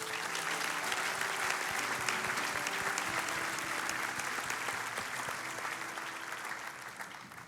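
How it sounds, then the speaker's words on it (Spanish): A church congregation gives dense, sustained applause that fills the room, with faint voices under it and a slow fade toward the end. "Dele un fuerte aplauso a Jesús."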